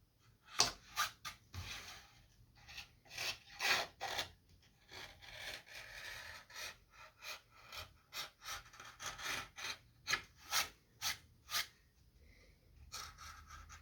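Knife carving through a pumpkin, a series of rhythmic scraping, sawing strokes with uneven pauses, close and fairly quiet, with soft breathing in between.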